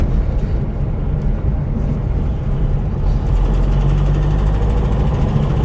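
A Porsche 912's air-cooled engine runs steadily, with a loud, continuous low rumble that stays close and even throughout, heard alone with no talking.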